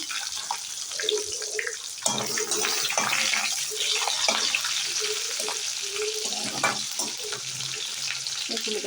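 Panch phoron, dried red chillies and bay leaves hit hot oil in a home kitchen, giving a steady crackling sizzle with intermittent spits and pops and a few faint clinks.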